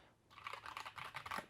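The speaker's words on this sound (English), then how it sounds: "they are red switches. So I'm just typing like crazy. They do sound pretty silent." Rapid typing on a Cooler Master SK650 low-profile mechanical keyboard with red linear switches, a fast run of soft, quiet keystrokes close to the mic with no talking.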